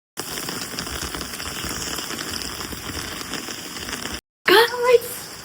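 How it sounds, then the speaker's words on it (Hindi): Steady hiss of heavy rain pouring down continuously in the mountains, broken by a brief silence, then a short burst of speech over the downpour. "बारिश बहुत ज्यादा हो रही है"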